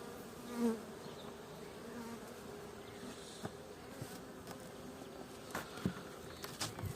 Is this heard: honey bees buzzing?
yes